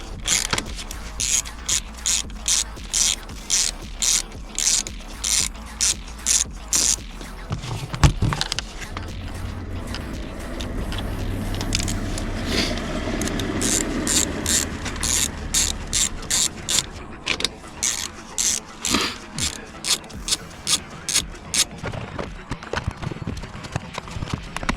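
Rapid ratchet clicks in repeated bursts, close and loud, while a new genuine Audi TT bonnet latch is fitted, with a steadier mechanical whirr in the middle stretch.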